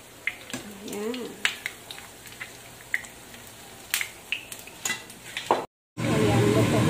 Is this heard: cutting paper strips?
no